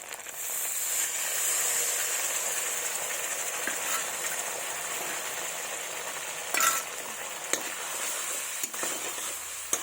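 Spice paste with salt and turmeric frying in oil for a vegetable dish of drumsticks and sweet pumpkin, a steady broad sizzle with occasional spatula scrapes and clicks, close and fairly loud, no talking.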